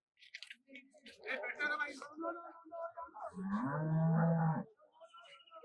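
Murrah buffaloes and calves low and moo nearby at a buffalo market in Hyderabad, one long deep bellow rising at the end, with brief voices mixed in at the start.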